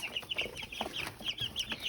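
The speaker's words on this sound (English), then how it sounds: "I think I ended up with a lot of roosters this time and not so much hens" Chickens and roosters cluck and chatter in rapid, overlapping bursts, with several birds calling close by at a lively, uneven pace.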